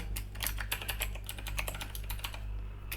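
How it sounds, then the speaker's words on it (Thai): Rapid, clicky keystrokes on a blue-switch mechanical keyboard, typed close by in an irregular flurry with a low hum underneath. "อันนี้เสียงเสียงกดคีย์บอร์ดนะคะเป็นบูสวิตนะคะ"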